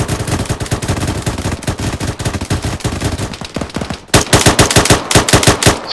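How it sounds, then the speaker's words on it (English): Gunfire during a military training exercise, rapid machine-gun bursts cracking in a steady rhythm for several seconds, then a louder, closer string of shots after a brief pause, with no voices. "Continue firing."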